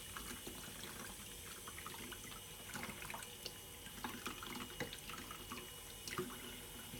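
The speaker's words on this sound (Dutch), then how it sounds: "haal je de stop eruit en spoel je het helemaal af met lauw water" Lukewarm tap water runs steadily into a sink while a nebulizer device is rinsed, with a continuous splashing flow and scattered small drips and knocks, close by and fairly quiet throughout, no talking.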